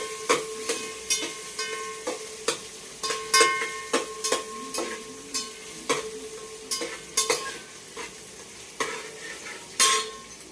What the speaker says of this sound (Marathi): त्याच्यानंतर आधी मी बटाटा परतून घेतेय।